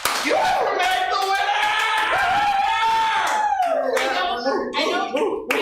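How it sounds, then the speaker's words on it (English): Audience at an improv comedy show clapping and cheering loudly, with a dense crowd applause under excited whoops and shouted voices throughout. "Huge round of applause."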